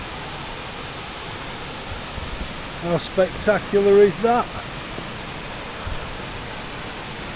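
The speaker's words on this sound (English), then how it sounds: "surrounded by waterfalls tonight" A nearby waterfall roars as a steady, hissing wash of water, with a voice speaking briefly over it partway through.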